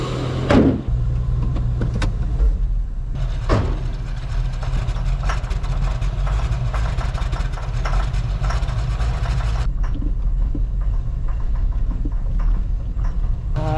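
A 1979 Ford Ranchero GT engine, left sitting for 20 years, idles with a steady low rumble throughout, broken by a couple of brief sharp clicks or knocks near the start and a slight change in tone toward the end.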